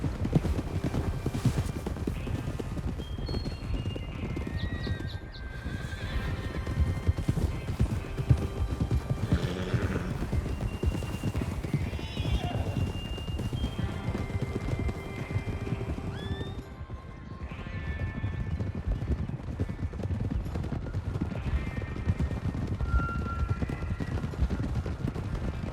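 Horses gallop with steady, continuous clip-clop hoofbeats through snow in the Western video game Red Dead Redemption 2, with occasional neighs and whinnies amid the running.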